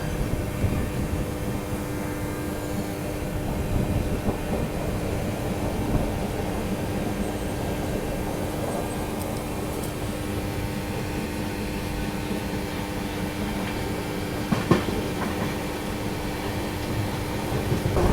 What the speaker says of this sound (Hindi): यहाँ पर अभी अपनी क्रॉसिंग होने वाली है चंडीगढ़ से चलकर अजमेर के बीच में चलने वाली गरीब रथ एक्सप्रेस के साथ।